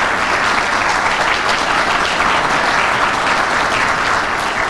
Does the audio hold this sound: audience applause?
yes